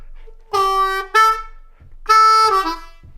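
A D harmonica plays the opening lick of a song, two short bursts of reedy harmonic notes, each a held tone followed by a quick second hit, close and clear with a soft tapped beat between.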